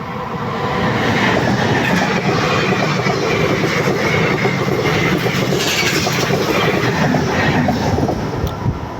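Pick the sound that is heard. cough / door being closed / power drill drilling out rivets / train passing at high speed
train passing at high speed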